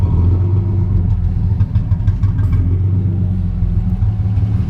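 A 1979 Plymouth Volare with a 225 Slant Six and a 3-inch exhaust, running with a loud, close, rumbling idle and slight fluctuations in engine speed.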